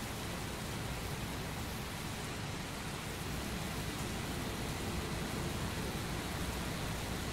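Heavy rain in the video game Heavy Rain pours steadily as a loud, dense hiss, unbroken for the whole stretch with no voices.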